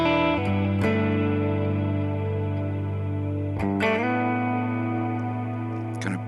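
Clean electric guitar with reverb and compression, played through an IK Multimedia ToneX pedal into a BOSS GT1000: sustained, ringing chords with lush reverb tails, a change of chord partway through.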